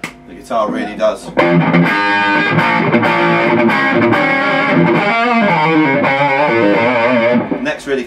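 Distorted electric guitar, a PRS Nick Catanese signature model with EMG pickups, played loud and sustained with chords and riffs ringing throughout, a brief sparse passage at the start before the full crunchy tone kicks in.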